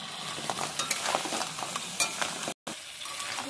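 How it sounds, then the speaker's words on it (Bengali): Crabs sizzle steadily in hot oil with turmeric and salt, with crackling spatters and occasional stirring scrapes close up, briefly cut by a split-second gap of silence. "প্রথম আমি কাঁকড়াগুলো ভেজে নেব।"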